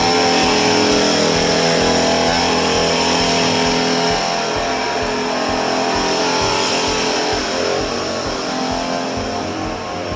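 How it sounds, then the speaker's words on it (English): A leaf blower clears leaves off a driveway, its engine a loud, steady drone that holds continuously close by without pause. "You got that blower trying to blow leaves and shit all out the way."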